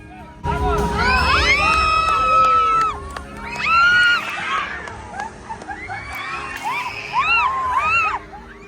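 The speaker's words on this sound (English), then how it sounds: "That wasn't the kids that were screaming, that was me." Crowd at an orca show screaming and shrieking while getting splashed, several waves of high excited yells and squeals close by, with overlapping voices and background murmur.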